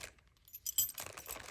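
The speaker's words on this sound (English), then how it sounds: "Anybody out there know about these old skeleton keys? I'll keep them all together." Old skeleton keys jangle and clink together in a brief metallic rattle, close and fairly quiet, with a few sharper chinks near the middle and no talking.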